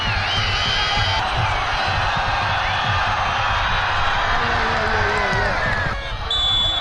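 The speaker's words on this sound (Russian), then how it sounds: "Болельщики беснуются." Football fans at a Kyrgyzstan national team match create a steady, dense crowd roar with whistles and shouts, continuous and fairly distant throughout.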